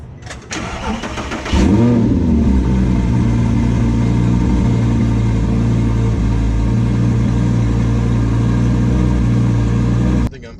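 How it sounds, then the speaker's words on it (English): A 2010 Audi R8 engine cranks and fires into a loud, throaty cold-start roar, then settles into a high, steady fast idle close by before cutting off. "What we have right now is a cold start on a 2010 R8."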